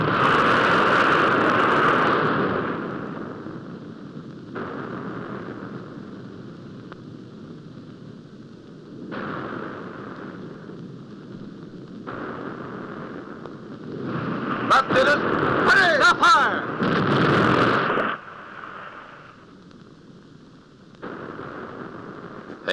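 A submarine deck gun fires shells at a ship in a wartime film, with heavy booming blasts and rumbling detonations spread across the scene, loud and close, while dramatic music and shouted commands mix in.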